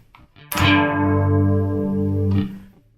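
A heavily distorted bass guitar power chord in a bass line rings out once, sustaining loudly for about two seconds before being cut off, with a brief muted strum just before it.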